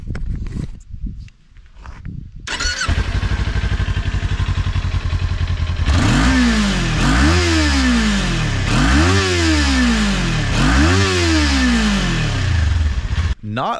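A 2022 Kawasaki Ninja 400 motorcycle fires up, settles into a steady idle, then revs up and down in four repeated throttle blips, loud and close, with wind noise in the background.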